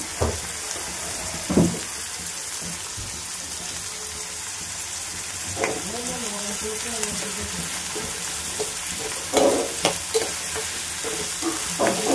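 Onions and curry leaves fry in a pan with a steady, close sizzle, while scattered stirring scrapes and clinks rise above it.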